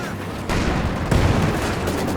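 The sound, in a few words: railway artillery fire in a video game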